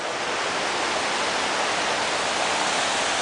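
Big Creek rushing steadily near the South Fork of the Merced at the old Wawona fish hatchery, a dense even hiss of flowing water with no breaks and no voices.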